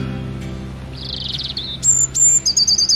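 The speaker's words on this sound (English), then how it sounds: "but there's a little robin up there. Maybe you can hear him, but he's been singing away as I've been drawing." Robin singing in springtime, a near, clear series of high chirps and trilled phrases, with faint background hum under the first part.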